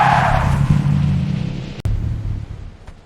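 A cartoon car roars past close by with a brief tyre squeal, loud at first and fading away over a few seconds, no voices.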